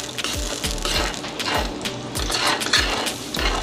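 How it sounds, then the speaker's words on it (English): Seafood boil being stirred in a pot, with repeated scraping and clattering strokes against the metal over a bubbling background, close and steady with no talking. "I'm gonna give this a stir."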